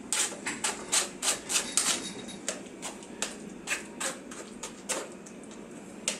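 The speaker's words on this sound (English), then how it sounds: "Just keep working it across the sieve there." Roasted eggplant is pushed and scraped across a sieve to drain, making a rhythmic series of close, dry scraping and tapping strokes, about two per second, with no talking.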